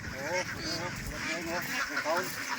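Ducks and ducklings at a duck farm give off a steady chorus of honking, quacking calls, close and continuous, overlapping into a busy flock noise beneath which a person talks.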